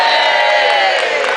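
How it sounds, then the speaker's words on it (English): A large crowd at the Autosport International motor show cheers loudly and steadily, a near, sustained roar of many voices. "Eddie, that got the biggest cheer of the afternoon."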